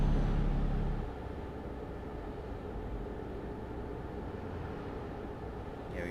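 Heavy truck engine in Euro Truck Simulator 2 labouring uphill at full load, a loud, steady low drone that eases slightly after the first second and then holds a constant strained rumble.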